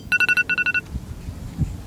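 A mobile phone rings with an incoming call, sounding two quick bursts of bright electronic beeps, each a run of four pulses, close and loud, followed by quiet room noise.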